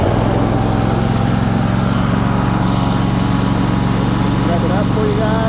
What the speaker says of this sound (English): Choke it and start it up.